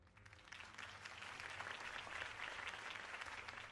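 In the Telltale Batman video game, a crowd applauds a campaign speech continuously, dense clapping that builds after a moment and holds steady, heard at a moderate distance.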